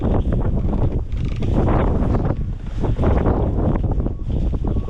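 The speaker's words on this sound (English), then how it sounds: "now I'm walking back into the wind" Strong blizzard wind in Maine buffeting the microphone outdoors beside a truck camper, a loud, constant roaring rumble with gusty surges and no clear speech.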